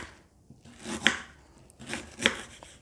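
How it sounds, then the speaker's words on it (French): Fresh ginger is sliced finely with a knife on a board, two distinct crisp chopping strokes about a second apart, close and alone with no talking. "un petit peu de gingembre. Donc, vous pouvez le couper tout fin"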